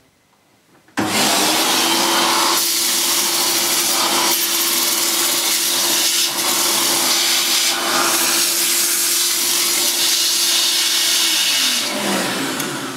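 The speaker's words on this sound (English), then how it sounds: "I'll attach the crevice tool to the end of the hose and see if I can grab all that debris there." An Electrolux Dolphin 2200 vacuum cleaner switches on and roars with a loud, steady suction drone as its crevice tool sucks at debris, with the pitch wavering slightly as the nozzle moves and no voices.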